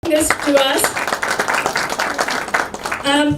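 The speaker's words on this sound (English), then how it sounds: "please give a big round of applause to Chanakya and Teja for bringing this to us" A conference audience gives a round of applause, with bursts of clapping mixed with voices talking over it.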